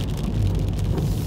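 Heavy rain beats down in a constant thick roar with a deep low rumble underneath, close and loud throughout, no voices present.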